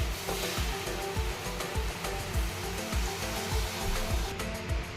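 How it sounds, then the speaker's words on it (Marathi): Water poured onto rice in a pressure cooker, a steady broadband rushing splash that runs throughout at close range with no talk. "आता याच्यामध्ये आपण पाणी ॲड करणार आहोत"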